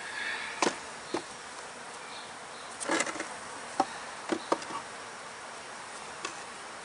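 Bees hum softly around open beehives with queen cells during an inspection, with a faint steady drone broken by a few brief, sharp knocks and clicks of hive handling.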